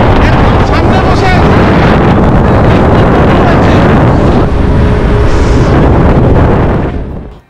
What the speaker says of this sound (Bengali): আমরা এখন স্পিডবোটে শুরু হয়ে গেছে